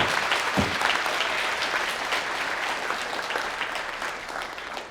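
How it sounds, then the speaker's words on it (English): Sustained applause from a graduation celebration audience, a dense, steady clapping that fills the room for several seconds, fading slightly toward the end. "So please give a round of applause to my mom too."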